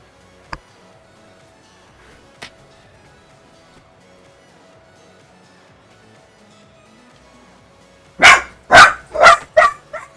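Dogs barking loudly nearby, a quick burst of about five sharp barks near the end after a stretch of near silence with a couple of faint knocks.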